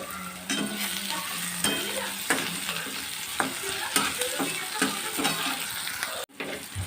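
Tomatoes and green chillies fry in a hot pan for upma, a steady close sizzle broken by repeated scraping stirs and clinks of a spoon, ending with a brief sharp knock.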